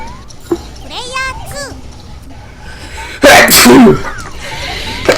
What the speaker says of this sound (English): I got sneeze.